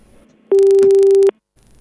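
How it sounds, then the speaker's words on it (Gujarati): A telephone busy tone signals a dropped caller on a live stock-market phone-in show: one steady beeping tone, loud and alone, lasting under a second between quiet stretches. "ફોન કટ થઈ ગયો છે"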